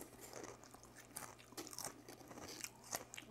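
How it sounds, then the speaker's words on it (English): Close, crisp crunching of Stack'Ems cheddar cheese potato chips being chewed, quiet and irregular, with crackly bites scattered over a few seconds. "Very crunchy. You probably can hear it in my mic."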